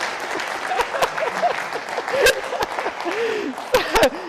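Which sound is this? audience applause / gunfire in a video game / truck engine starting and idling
audience applause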